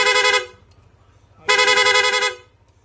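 A Yamaha Aerox V2.2 scooter's aftermarket PIA rapid horn sounds in two loud, close, buzzing bursts, a short one and then a longer one, with a quiet pause between them.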